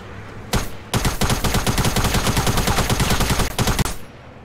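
Rapid gunfire from a gun in Fortnite comes as a short opening burst, then a long sustained string of loud, evenly spaced shots, and it ends with a few final rounds.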